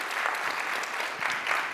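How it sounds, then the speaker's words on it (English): Audience at a FinOps conference session clapping, a steady, dense burst of applause filling the room for a couple of seconds at moderate loudness. "Can I get an atomic applause for both of you?"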